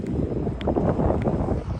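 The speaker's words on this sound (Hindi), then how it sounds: "इस वक्त इतनी ठंडी हवा चल रही है" Cold wind blows outdoors just outside a shrine museum in Kazimain, a steady close rumble of gusts buffeting the microphone with no voices.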